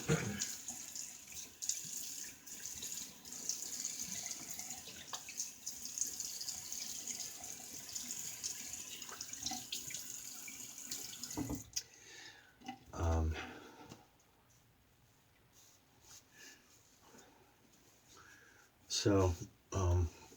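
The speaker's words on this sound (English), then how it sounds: "Let me get a quick rinse." Running tap water streams steadily into a sink as a Gillette Aristocrat safety razor is rinsed, then stops abruptly, followed by a few sharp taps and knocks of the razor against the basin.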